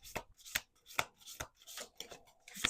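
Tarot cards are shuffled in a series of quick, crisp riffling flutters, about six short bursts in a steady rhythm, close and fairly quiet with no talking.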